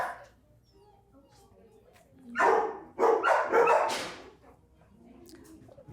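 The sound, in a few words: dogs barking at humane society shelter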